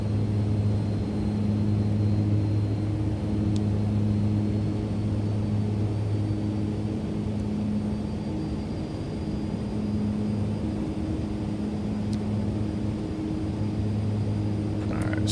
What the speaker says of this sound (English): It's an awesome sounding aircraft, by the way.